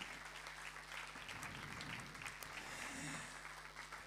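Audience applause at a German-language talk event, a steady dense wash of clapping from a room full of people that carries on for the whole stretch at a moderate level, with a faint voice briefly underneath.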